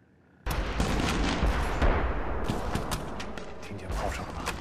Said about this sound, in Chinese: 听见炮声了吗？